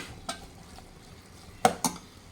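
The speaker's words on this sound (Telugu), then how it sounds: "ఉల్లిపాయలు వేగినాయి" Onions frying in a pan for chicken curry give a faint, soft sizzle with a few sharp clinks and scrapes of a utensil against the pan. No one speaks.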